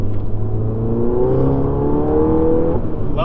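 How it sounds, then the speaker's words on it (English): A 2015-on seventh-generation VW GTI accelerating on the highway, its exhaust droning close and loud with rising engine pitch through a steady pull and wind roar, no talk. "Love that sound of the exhaust when you're accelerating on the highway"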